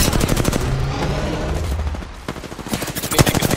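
Rapid automatic weapon fire in the battle royale shooter Apex Legends, loud bursts of shots in quick succession that pause briefly before another dense volley, with no voices.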